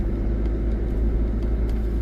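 A car drives along a road at night, a steady low engine and tyre rumble heard from inside, continuous and fairly loud with no talk.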